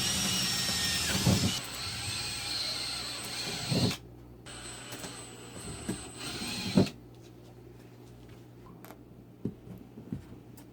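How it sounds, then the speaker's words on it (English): Power drill boring holes through the shelves of a homemade ball python rack, in three loud bursts of whirring that each stop with a thump before a quieter stretch with faint ticks. "And now we can drill the holes."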